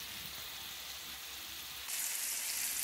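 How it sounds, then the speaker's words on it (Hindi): Turkish chicken kebab pieces fry on a flat tawa over a slow flame, giving a steady soft sizzle that brightens and grows slightly louder partway through, heard alone with no voices. "अब हम इसी तरीके से पलट पलट कर हर तरफ से गोल्डन कलर आने तक फ्राई करेंगे।"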